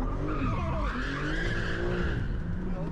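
A car doing a donut in the middle of a street, tires squealing and skidding in long wavering screeches over a deep engine rumble, loud and continuous for a few seconds.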